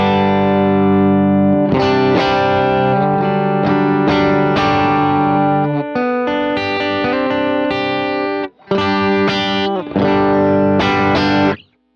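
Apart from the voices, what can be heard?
single coil electric guitar through compressor pedal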